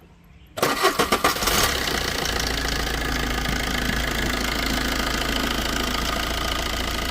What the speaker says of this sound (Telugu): ఒకసారి ఇంజిన్ కూడా స్టార్ట్ చేసి మీకు సౌండ్ ఏ విధంగా వస్తుంది ఏంటన్నది చూపిస్తాను